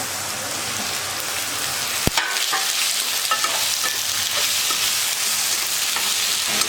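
Tomatoes frying in a pan of sautéed ginger-garlic paste for vada curry, a steady dense sizzle with scraping stirs and one sharp clack of the spoon near two seconds, no talk.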